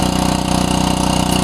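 Gasoline-engine DC generator running close by at a steady idle, a loud continuous droning chug with even rapid pulses and no pauses.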